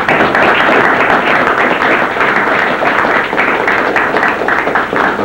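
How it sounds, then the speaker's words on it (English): A studio audience claps steadily for guests on a televised high school quiz show, the dense applause sustained at full loudness for about five seconds. "I'd like our audience to give them a fine round of applause"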